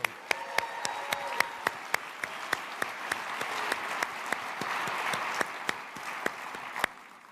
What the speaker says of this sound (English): let's have a round of applause for industry titan John Shalom